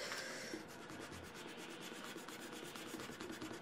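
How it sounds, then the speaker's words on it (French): An eraser rubs quickly back and forth across paper on a handmade birth card, a faint, close, continuous scratchy rubbing. "Donc on va gommer déjà"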